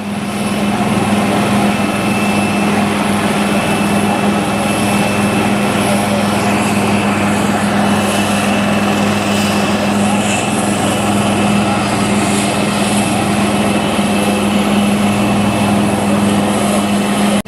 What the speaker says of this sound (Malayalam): രക്ഷപ്പെടുത്തിയ ആളെയും കൊണ്ട് ഹെലികോപ്റ്റർ പറന്നുയരുകയാണ്